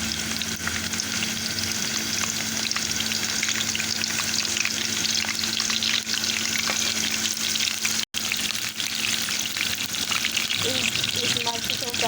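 Chili peppers roasting in hot ghee for a jalfrezi, a loud, continuous sizzle and crackle of frying that fills the whole stretch, close up, with a brief drop near the end.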